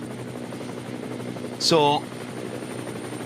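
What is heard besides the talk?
helicopter flying over the Nürburgring race track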